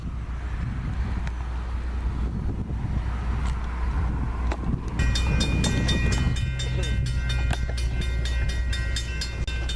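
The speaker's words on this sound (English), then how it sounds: "Our first train is the BF 97, a westbound rail train." A Norfolk Southern westbound rail train on the Cleveland Line near CP 110 by the West Glendale Avenue grade crossing in Alliance, Ohio, rumbles past loud and close, then a crossing bell rings rapidly over the heavy rolling noise.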